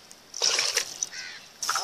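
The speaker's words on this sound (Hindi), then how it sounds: "ये 1 किलो हम इसके अंदर पानी ऐड कर रहे हैं" Water is poured into a pot of boiled lemons for a village-style lemon marmalade, splashing and trickling in two close bursts separated by a brief lull.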